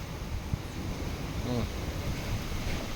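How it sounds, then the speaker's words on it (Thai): Strong gusting wind from a passing rainstorm roars steadily and loudly across the microphone, a broad continuous rush with slight swells and no speech. "นี่ดูครับลมโอ้สุดยอด"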